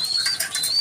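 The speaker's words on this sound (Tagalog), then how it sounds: "Ayan, ito nga yung mga ibon natin ngayon." Racing pigeons coo softly in a loft, short soft calls with faint whistling tones and a little wing movement, close and fairly quiet.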